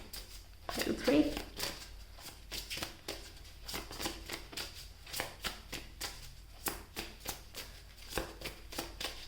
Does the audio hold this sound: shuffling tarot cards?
yes